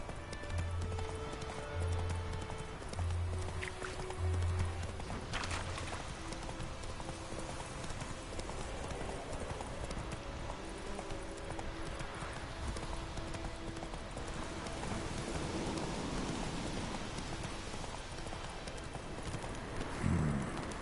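Roach, a horse in The Witcher 3, galloping under a steady wash of ambient noise, the hoofbeats soft and rhythmic, fading in and out without a break.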